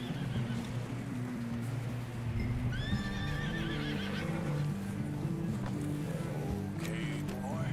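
A horse whinnies in a rising, wavering neigh amid a steady rumble of hooves and ambient noise, fairly close, in the video game Red Dead Redemption 2.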